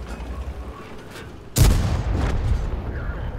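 A single heavy tank cannon shot from a World of Tanks-style tank battle game booms out suddenly, loud and close, after quiet engine rumble, followed by a lingering low rumble.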